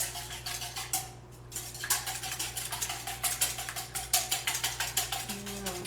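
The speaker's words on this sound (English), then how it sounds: "we're going to just whisk these together" A whisk beats two eggs in a bowl for cranberry dog treats, a fast, even rhythm of close scraping clicks over faint background hum.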